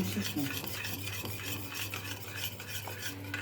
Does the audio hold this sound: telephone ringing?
no